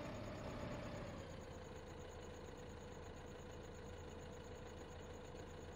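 A small tractor engine in Farming Simulator 15 idles with a steady low drone and mechanical hum, its pitch dipping slightly early on and then holding even and constant.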